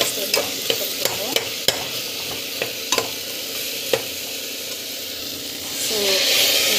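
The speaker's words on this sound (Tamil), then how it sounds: "ஸோ பார்த்தீங்கன்னா ஜஸ்ட் வந்து வறுத்து விட்டுக்கோங்க." Onions frying in a pan with chili, turmeric and coriander powders, a steady close sizzle broken by sharp clicks of stirring, the hiss swelling louder toward the end.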